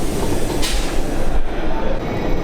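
A loud rumble of a train rolling into Zwolle station in the Netherlands, wheels and carriage noise close by with a brief hiss, steady and heavy throughout.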